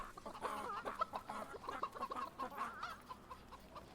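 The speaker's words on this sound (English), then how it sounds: "If you listen closely to the chickens," Chickens clucking in the Fable III video game, a busy flock of overlapping clucks and squawks heard close and steady across the whole stretch.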